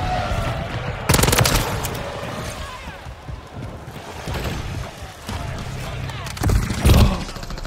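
Gunfire in the video game Modern Warfare 3: loud rapid automatic bursts and sharp single shots that come and go over several seconds, close and punchy.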